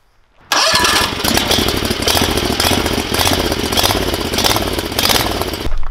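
Predator 670cc small engine with a drilled-out, modified muffler starts up after a brief quiet moment and then runs loud and steady at close range, a raspy, throbbing exhaust note with no talk over it.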